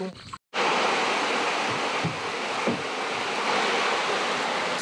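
A small waterfall in the shaded rainforest of Royal Belum, Malaysia, gives a steady, rushing wash of falling water close by after a brief cut, with no voices over it.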